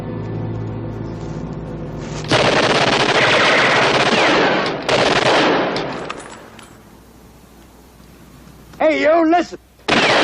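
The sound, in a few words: machine gun fire in 1964 war TV drama Combat!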